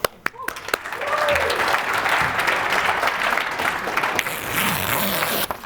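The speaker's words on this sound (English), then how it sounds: "Give a round of applause." Seminar audience gives a round of applause, a continuous wash of clapping at moderate level lasting several seconds, with a few sharp knocks at the start and a voice speaking over it near the beginning.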